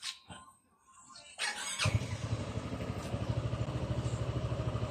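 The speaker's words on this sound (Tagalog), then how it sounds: "Set on ako ng engine." A Kymco Xciting S 400i scooter engine cranks and catches after a short quiet pause, then settles into a loud, steady pulsing idle nearby.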